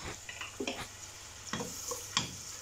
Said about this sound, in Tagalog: At saka ilunod na natin ang ating sibuyas.